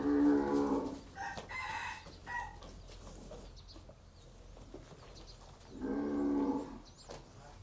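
Brahman cattle at a cattle market let out two loud, drawn-out moos, one at the start and another near the end, with quieter farmyard sounds and rustling in between.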